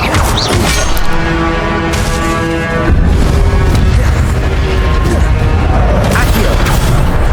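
The Incendio fire spell cast in Hogwarts Legacy erupts in loud booming, crackling bursts, with a sustained roaring blast and heavy impacts layered over game effects.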